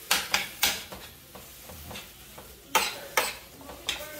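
Bacon frying in a pan, half cooked before going into the oven, gives a faint sizzle broken by close, sharp utensil scrapes and taps that come in irregular clusters.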